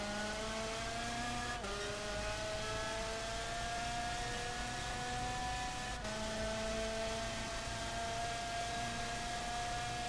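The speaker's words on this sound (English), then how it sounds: "you could actually race your own car around this circuit" A high-pitched race car engine in a video game drones steadily with rising tones, shifting gears twice, loud and continuous with no talking.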